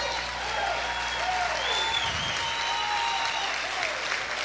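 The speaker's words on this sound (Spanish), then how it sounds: "¿Cuántos pueden aplaudir fuerte al Señor?" A church congregation applauds loudly during a sermon on freedom from curses, dense steady clapping filling the room with faint voices and tones mixed underneath.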